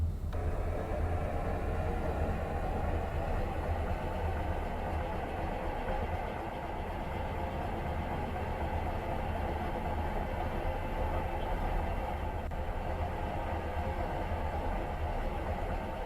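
A train reversing in the survival game ExoTrain gives a steady mechanical rumble with deep low drone and dense rattling texture, constant and moderately loud throughout, no talking over it.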